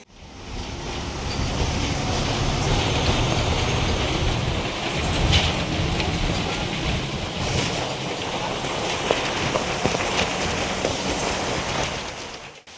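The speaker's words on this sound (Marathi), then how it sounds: "रत्नागिरी स्टेशनला उतरल्यापासून असाच रिमझिम पाऊस पडत आहेच" Light monsoon drizzle at a village bus stop in Konkan near Ratnagiri, a steady, even hiss of rain that holds for the whole stretch, with no voices over it.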